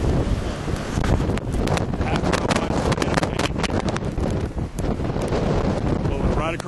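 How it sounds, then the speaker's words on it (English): Strong tornado winds roar across a road in Oklahoma near a half-mile-wide tornado, loud continuous buffeting wind noise hitting the microphone throughout, with voices partly buried underneath. "This is probably a half-mile wide tornado."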